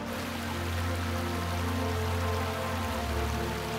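Water in a stream in the Bangucheon valley rushes steadily in a dense, continuous wash, close and full, with no voices.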